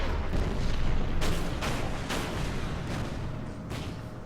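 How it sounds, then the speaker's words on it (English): Enemy artillery fires in the Order of Battle war game's Anzio scenario, a steady rumbling barrage with several sharp booming bursts spaced across a few seconds, loud and continuous. "Last enemy artillery fires."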